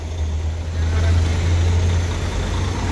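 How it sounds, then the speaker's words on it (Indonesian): A loud, steady rumble of heavy bus engines close by, a convoy of Sempati Star and ALS intercity buses droning continuously without a break as they roll past. "Bus, wah iring-iringan ya, bus"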